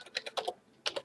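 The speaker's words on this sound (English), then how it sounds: "I'm going to go through all the keys to show you that all the keys work." Keys pressed on a Microsoft Natural MultiMedia Ergonomic Keyboard, a quick run of close, crisp clicks in two short bursts separated by a brief pause, with no voice.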